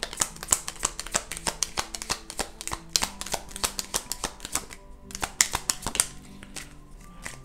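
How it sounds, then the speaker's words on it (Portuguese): Tarot cards are shuffled by hand at close range, giving a quick, rhythmic run of crisp papery flicks and taps with a few short pauses. "Deixa eu embaralhar mais um pouco."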